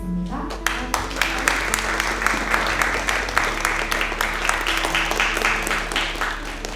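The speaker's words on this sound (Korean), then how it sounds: "큰 박수로" An audience at a book concert applauds to welcome an author onto the stage, a full wash of clapping with some sharper individual claps, over a low steady hum.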